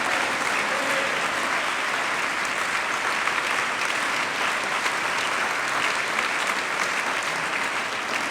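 A church congregation applauds at a Sunday service, a steady wash of dense clapping from many hands that fills the room evenly for several seconds.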